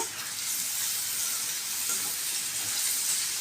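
Turmeric, salt and other ingredients sizzle and fry steadily in a hot pan while being stirred, a continuous close hiss with no voices.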